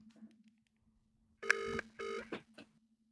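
A phone ringing out in repeated electronic trilling bursts with short gaps between them, fairly clear over a low steady hum, with no voices.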